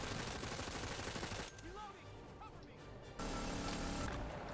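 Dense automatic and rapid gunfire from a Planetside 2 battle rolls loudly through most of the stretch, dipping briefly in the middle before surging back, with no one talking over it.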